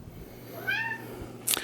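A house cat trapped in the basement of an older home lets out one clear rising-falling meow at close range, preceded by a low mechanical hum and followed by a brief sharp click.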